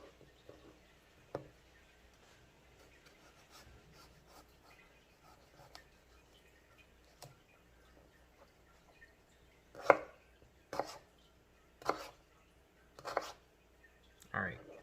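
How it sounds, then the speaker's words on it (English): Potatoes are cut into fries with a knife, ending in a run of five distinct chopping knocks on a board after quieter scattered taps, with no talking. "once your fries are all sliced"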